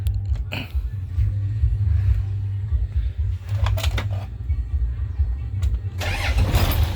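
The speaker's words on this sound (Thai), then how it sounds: "สตาร์ทติดง่ายเลยนะครับ" A used Hino 195 six-wheel truck's diesel engine cranks and catches, then settles into a close, deep, rumbling idle, with brief louder bursts as it revs near the end.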